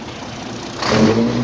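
Car engine revved hard to high RPM after idling: a low steady idle gives way to a sudden loud rising roar that holds near the end, with no voices.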